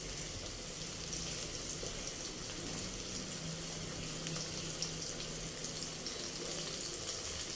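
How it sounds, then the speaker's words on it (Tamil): Potatoes sauté in a frying pan with a steady, hissing sizzle that stays constant and fairly quiet throughout, with no voices over it. "கொஞ்சம் வதங்கட்டும். நம்மளும் கொஞ்சம் சைடில் வதக்கலாம்."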